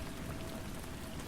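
Steady rain falls outside a window at night, a dense, even patter of drops hitting surfaces with no other sounds, continuous and soft throughout.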